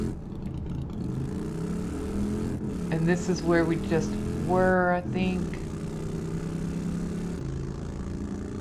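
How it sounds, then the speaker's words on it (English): Motorcycle engine in the video game 7 Days to Die Alpha 17: a steady low engine drone running continuously while a person talks over it. "Oh, I love the sound of this motorcycle."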